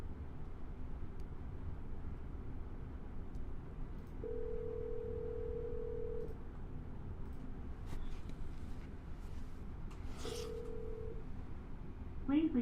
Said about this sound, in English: We're going to double dial.